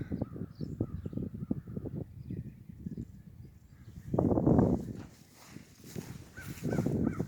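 Crows cawing around a barn during a late-winter snowmelt walk, a run of short rhythmic calls followed by louder bursts, moderately near with an outdoor background.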